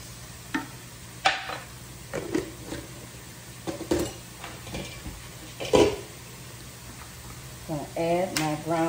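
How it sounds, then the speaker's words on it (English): Ingredients for stuffed green peppers sautéing in a pan, a quiet sizzle broken by scattered clinks and scrapes of a utensil stirring, with a voice talking briefly at the end. "Just let it saute for a minute."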